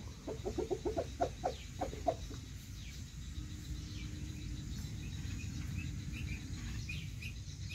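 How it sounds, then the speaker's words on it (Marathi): A rooster on a farm crows nearby in a series of quick, harsh calls, then stops, leaving a steady chorus of crickets and insects buzzing in the background. "बघा कसा कोंबडा आहे."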